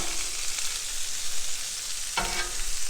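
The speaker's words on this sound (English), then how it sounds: "Now that is country fried potatoes right there" Country fried potatoes sizzle steadily on a Blackstone griddle, a constant crackling hiss of hot oil with a brief louder burst of frying near the end.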